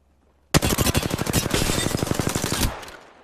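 Rapid automatic gunfire in the battle royale shooter Apex Legends, a loud, close burst of evenly spaced shots lasting about two seconds and then cutting off, with no talking.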